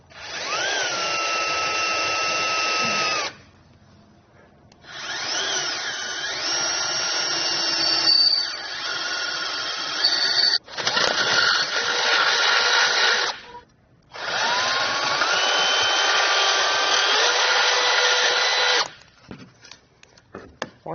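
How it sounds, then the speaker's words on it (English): A power drill with the proper size bit bores holes through a 2020 vehicle frame while a Roadmaster direct-connect base plate is fitted, whining in several long close bursts with short pauses between them. "We'll come in with the proper size drill bit"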